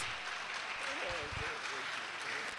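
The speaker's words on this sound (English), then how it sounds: "A round of applause." Audience applause at a conference dinner and awards ceremony, a fairly faint, continuous patter of clapping with a voice speaking briefly in the middle.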